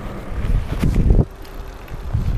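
Gusty wind from behind buffets the microphone along the Danube between Tuttlingen and Ulm in low rumbling bursts, strongest in the first second and then easing to a steadier blow.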